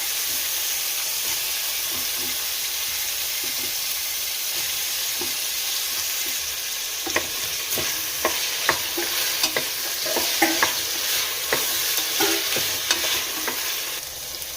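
Eggplant pieces and onion frying in oil in a pan for a village-style curry, a constant sizzle and hiss with stirring clacks that grow busier and louder in the second half.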